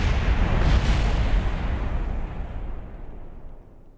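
A rocket fuel tank explodes in Kerbal Space Program: a single loud, deep boom that rumbles and slowly fades away over a few seconds, heard alone.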